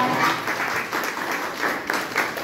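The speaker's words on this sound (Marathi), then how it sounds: "त्यांचं टाळ्या वाजवून आपण स्वागत करूया." A group in a hospital ward applauding to welcome a doctor, a steady run of many hands clapping, moderately close with slight swells in intensity.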